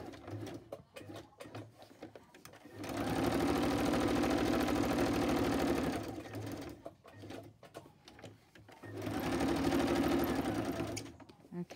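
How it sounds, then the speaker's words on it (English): A sewing machine stitches glued pieces in two long, steady bursts of rapid mechanical whirring, each lasting a few seconds, with quiet handling noises between them. "then I'll just pass them through my sewing machine"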